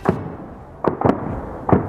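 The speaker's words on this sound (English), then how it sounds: "The air crackles with the sound of gunfire." Gunfire crackles in close-quarters combat around a town, sharp isolated bursts that snap out nearby, one after another with short gaps between them.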